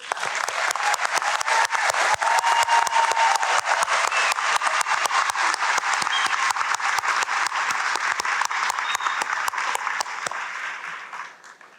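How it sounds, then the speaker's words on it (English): Graduating college students at a commencement ceremony applaud themselves, a dense, steady round of clapping from a large crowd that carries on loudly for about ten seconds before fading at the end. "go ahead and give yourselves a round of applause"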